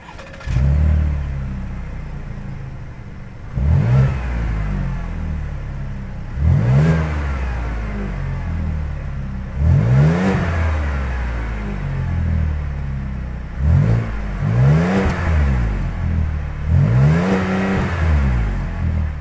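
A 2022 Chevy Traverse High Country's GM 3.6-liter V6 revs repeatedly after starting, each blip rising and falling in pitch at a steady pace, loud and close with no talking.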